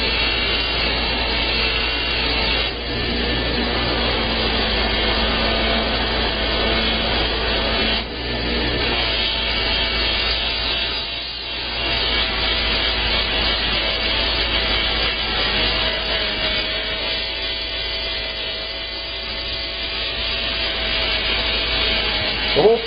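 A vacuum pump drones steadily while beeswax is melted and buffed into wooden pistol grips, a continuous mechanical hum with rubbing and buffing noise over it, running without pause and with no voices.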